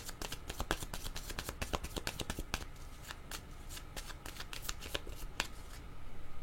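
Oracle cards being shuffled by hand close up, a rapid run of crisp papery flicks and riffles, dense at first and then sparser, with no talking.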